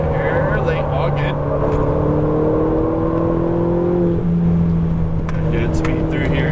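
A Ferrari 488 GTB on a racetrack drones steadily from inside the cabin, its engine note rising in pitch as it accelerates and then settling, while a voice keeps talking over it throughout.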